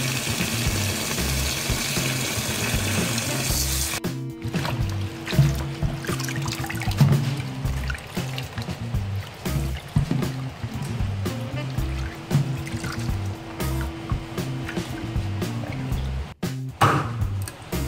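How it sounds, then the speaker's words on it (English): Water is poured and trickles into a pan while frog is cooked with vegetables and holy basil in a Cambodian kitchen, a moderately loud splashing and dribbling mixed with low background music and handling noise. "Now we add water"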